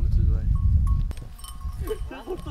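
Goats bleat a few times amid a noisy outdoor village scene in southeast Turkey, with people talking over a low rumble.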